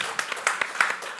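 An audience at an evening event applauds, a short burst of scattered hand claps with several distinct sharp hits.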